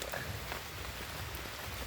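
Rain falls steadily and softly, a dense even patter on surfaces with no breaks, faint and continuous throughout.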